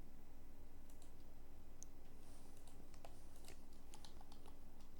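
Quiet clicking of computer keyboard keys as a relay model name is typed, a sparse irregular run of soft taps over a low steady hum, no voices.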